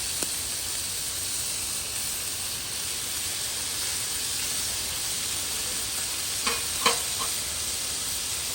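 Shrimp, chicken and beef fajitas sizzle on a Blackstone griddle in a continuous, even hiss, with a few faint clicks near the end.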